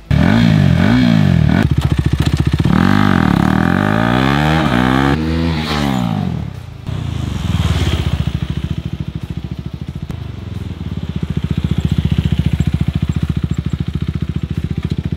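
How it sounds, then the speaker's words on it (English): A 2022 KTM RC 390 motorcycle engine revving hard, with rising and falling pitch sweeps as it brakes into a stoppie, then settling into a loud, close, rough running note. "what is my longest stoppy with a KTM RC390."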